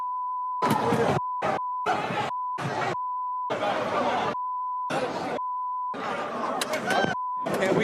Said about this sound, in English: The guy in charge of the sweary beep button.